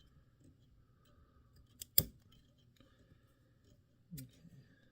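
Scissors snip through a feather stem at a fly-tying vise, one crisp close cut followed by a softer second snip, with quiet handling noises and low murmuring in between.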